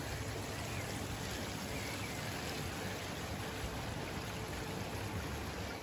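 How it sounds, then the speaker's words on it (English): Heavy rain pours down steadily near a balcony in a mountain village below Mount Olympus, Greece, a dense unbroken hiss of falling water with no pauses, soft and even throughout. "Wow, there's a lot of water coming down."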